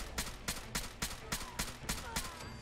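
The Tanker Pistol from the video game Fallout 4 fires roughly nine sharp shots in a steady rhythm about a quarter second apart, each crack close and punchy, with no talking.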